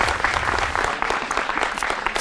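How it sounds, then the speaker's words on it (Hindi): Studio audience applause on a Hindi political debate show, loud, dense and continuous clapping from many hands filling the whole moment without pause. "आप सभी अपने लिए एक बार तालियां बजा लीजिए"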